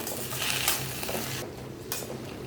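Fresh coriander is stirred and scraped in a pan for chutney, metal utensils clinking against the pan, with a faint sizzle beneath.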